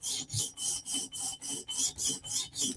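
A Chris Reeve knife blade sharpened on a TSProf Kadet guided sharpener, a close rasping stone stroke repeated about nine times in an even rhythm, heard alone.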